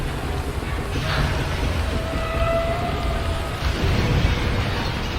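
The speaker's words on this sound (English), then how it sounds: "There goes another funnel." A ship's funnel collapsing in a Titanic sinking video game: a dense, steady roar of groaning metal and rushing water, with long faint whining tones drifting through the middle.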